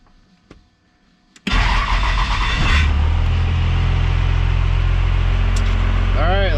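A 1972 Ford F250 Bumpside truck fitted with a diesel engine cranks briefly, fires up loudly and settles into a steady, rumbling idle close by. A voice is heard faintly near the end.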